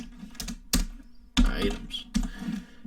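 Close, crisp typing on a computer keyboard, a few separate bursts of keystrokes with short pauses between them and no talking over them.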